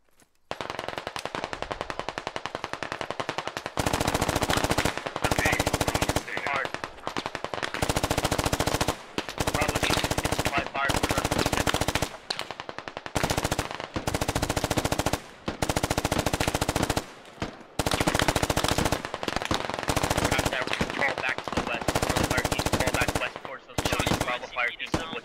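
Machine gun laying down suppressing fire in a military squad video game, long sustained bursts of rapid automatic gunfire broken by short pauses, loud and close throughout.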